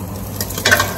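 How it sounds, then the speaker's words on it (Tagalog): Food sizzles and crackles in a hot pan, with a brief stirring scrape and a sharper burst of frying near the end. "Iprito-prito lang natin to."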